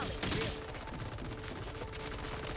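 Turrets fire in Borderlands 4 as a rapid burst of gunfire opens the clip, followed by a continuous busy clatter of shots.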